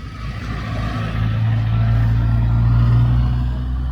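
A 1985 Nissan Micra idles and revs nearby at an outdoor museum display, its small engine giving a steady low hum that swells louder partway through and holds.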